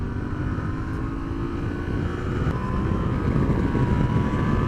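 A 2022 Yamaha Tenere 700 motorcycle ridden through hill roads, its engine giving a steady, loud drone with wind rush that builds slightly toward the end, no talking.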